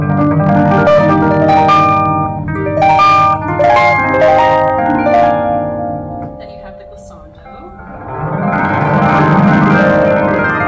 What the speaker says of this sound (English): and glissandi, which sound like this.